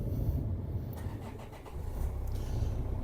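A 2003 Renault Scenic engine with 386,000 km cranks and catches, settling into a steady low idle rumble, close and fairly loud with no voices.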